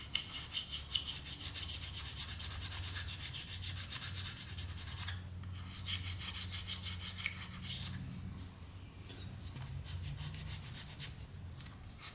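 A brass wire wheel spinning on a Dremel scrubs leftover gasket off a dirt bike engine surface, giving a close, continuous bright scratching hiss with short breaks.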